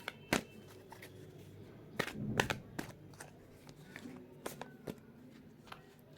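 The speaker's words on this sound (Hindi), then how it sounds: "मैं आपके लिए 2 कार्ड्स लूँगी, ठीक है? ओके, ओके, मैं और एक कार्ड लूँगी आपके लिए।" Tarot cards are shuffled and drawn in a quiet room, giving a few sharp flicks and snaps followed by softer rustling and sliding, close but faint.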